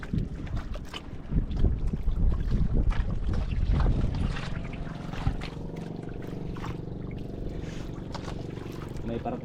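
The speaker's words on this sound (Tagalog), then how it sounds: "may parating isang bangka." An approaching boat's motor drones steadily in the distance, with people talking in Filipino over it at first and the engine hum carrying on alone afterward.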